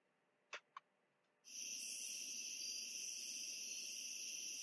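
Crickets chirp in a steady, shrill drone that starts abruptly after two short clicks and then holds unbroken at an even level, with no talking.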